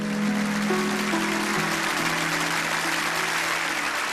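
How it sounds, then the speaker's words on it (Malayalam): A church gathering applauds as a girl comes forward, steady clapping throughout with sustained tones from a keyboard or organ underneath. "നല്ലൊരു കൈയടി കൊടുത്ത അൻസാമോൾക്ക്."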